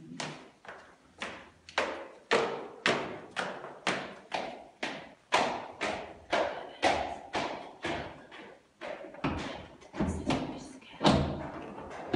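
A door being repeatedly banged and forced, roughly twenty heavy thuds and slams in a steady, pounding rhythm, loud and close, with short gaps between blows.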